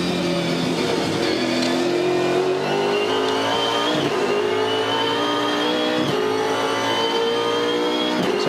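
A 2014 Supercars V8 race car at the Tasmania 400 heard onboard, loud and close, its engine screaming at high revs, then blipping down rapidly through the gears under heavy braking, with sharp downshift surges.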